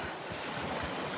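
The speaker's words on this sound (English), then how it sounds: "The whole idea of a silent live would be that you guys want to hear the ocean" Ocean waves washing onto the shore in a steady, soft broadband rush, heard alone at a moderate distance.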